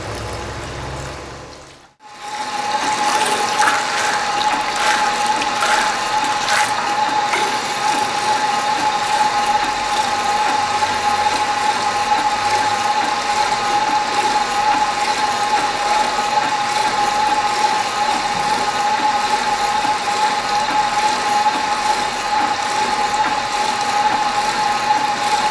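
AGP PM039 electric piston airless sprayer being flushed with water, a steady mechanical pump hum with a sustained whine and rhythmic piston pulsing, running continuously after a brief pause near the start.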